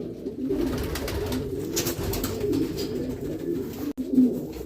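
Continuous low, throaty cooing from a male homing pigeon courting a female, repeated rolling coos held close and prominent throughout.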